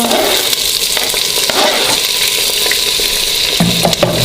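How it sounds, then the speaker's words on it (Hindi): Masala of ginger-garlic paste, chopped green chillies and tomato frying in a pan for tinda sabzi, giving a loud continuous sizzle with bursts of crackling and occasional stirring scrapes, and no speech. "और इसको अच्छी तरह मसाले को भूनेंगे हम।"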